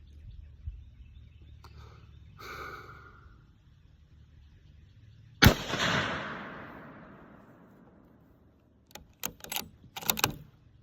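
.270 caliber rifle fire at an outdoor range: one sharp, loud shot with a long fading tail, framed by quiet stretches and a few brief metallic clicks and knocks afterward.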